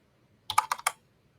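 A quick burst of about five keystrokes on a computer keyboard, crisp and close, with near silence before and after.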